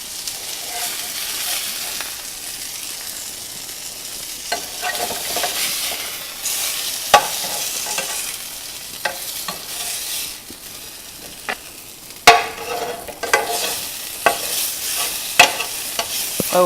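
Hamburger steaks fry in a pan with a steady sizzle and crackle, broken by sharp clicks and scrapes of a utensil.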